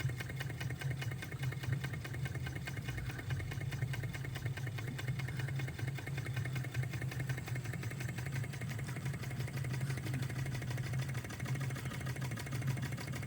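A tiny OKMO R01 Rider-Ericsson Stirling engine model with a miniature pump runs steadily, giving a continuous low mechanical hum with a faint ticking rhythm throughout, with no talking.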